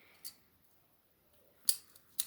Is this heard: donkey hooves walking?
no